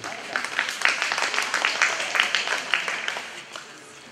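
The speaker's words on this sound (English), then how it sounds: "Round of applause." A crowd at a cattle show applauds, producing a dense, steady patter of clapping that swells and then tapers off over a few seconds.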